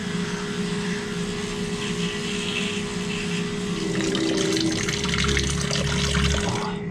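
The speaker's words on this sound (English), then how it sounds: "I can wash my hands finally" Tap water runs steadily as hands are washed at a sink, a continuous hiss with a low pump-like hum swelling louder toward the end.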